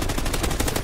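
Rapid automatic assault rifle fire in Call of Duty: Ghosts, loud, close and continuous, with evenly spaced shots throughout the brief burst.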